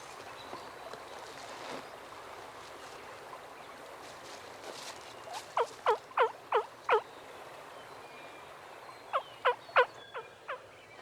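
Wild turkey gobbling outdoors, two distinct bursts of rapid rattling gobbles, a run of five and then four, fairly close over a quiet natural background with no talk.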